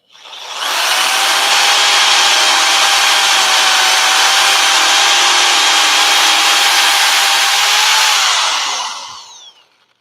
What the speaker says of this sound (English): So my drill bit is smoking, and I'm not going much of anywhere.